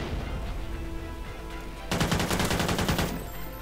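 A burst of rapid shotgun fire in Call of Duty: Ghosts multiplayer kicks in partway through, loud and sustained, following a quieter stretch of background sound.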